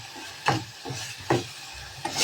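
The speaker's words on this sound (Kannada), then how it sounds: "ಈಗ ಅದನ್ನು ಹಾಕಿ ಸಕ್ಕರೆ ಹಾಕಿ ಮಿಕ್ಸ್ ಮಾಡತ್ತೀನಿ" Sugar being stirred into a mixture in a pot, with a spoon giving a few scraping strokes against the pot and a faint sizzle underneath, no voices.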